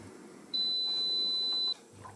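A single sustained electronic beep, steady and clear for about a second, from the control panel of a Hauswirt K5 Pro air fryer oven, set against quiet room tone.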